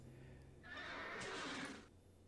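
A horse neighs in a short, loud whinny lasting about a second, played from a video clip over a quiet background hum.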